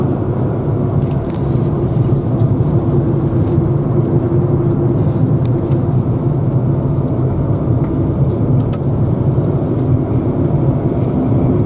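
From inside a Lada Kalina with an engine that has been jerking, a steady engine and road drone carries on through a late-March drive, continuous and fairly loud, with no talking.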